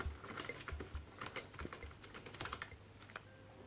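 Corsair K55 RGB gaming keyboard with soft keys being typed on up close, a rapid, irregular run of light key taps and clacks that continues steadily throughout with no voices.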